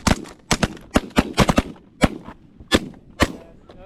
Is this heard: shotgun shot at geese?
yes